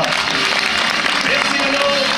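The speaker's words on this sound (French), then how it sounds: "je vais vous demander de faire également un tonnerre d'applaudissements à Manon Rougier" Loud, dense applause from a pageant audience during a Miss Poitou-Charentes preselection, continuous and close throughout the short stretch, with voices mixed in.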